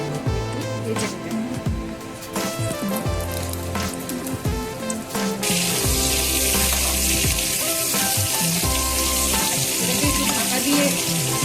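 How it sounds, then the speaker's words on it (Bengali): Large cut potato pieces fry in oil for chicken biryani. Quiet clatter and tones with background music give way midway to a loud, steady, close sizzle that continues to the end. "প্রথমে এই বড় করে কেটে রাখা আলুগুলোকে একটু ভেজে নেবেন।"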